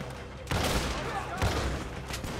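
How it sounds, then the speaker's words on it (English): Shotgun fire in the video game Red Dead Redemption 2, with two loud, booming blasts about a second apart over a dense wash of battle noise and ongoing gunfire. "Even the shotgun is not going through the tree."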